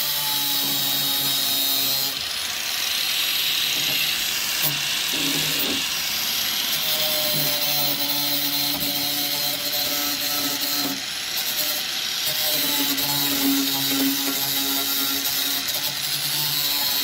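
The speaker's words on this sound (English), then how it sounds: "I'm gonna get the grinder and then." Power grinder smoothing rough metal edges on a car hood, a loud continuous high-pitched whine that shifts in pitch as the tool bears down and eases off, running steadily throughout.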